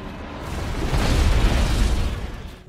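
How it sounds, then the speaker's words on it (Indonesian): Explosion of an alien spaceship in a film scene: a broad, rumbling blast that swells over a second and holds a dense roar before fading, heard alone. "Ledakan itu membuat kapal tersebut jatuh."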